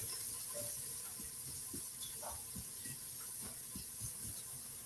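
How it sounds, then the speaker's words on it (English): Salt pork sizzling in a pan, a soft continuous hiss and spatter with scattered small pops and crackles, fairly quiet and steady, no talking. "We got our sizzling salt pork over here."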